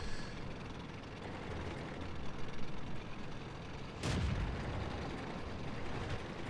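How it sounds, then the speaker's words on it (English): A single heavy artillery shot from an M37 self-propelled gun in World of Tanks, one sharp boom midway over a steady rumbling engine and battle background. "I think it's the M37 that gets the shot off on me."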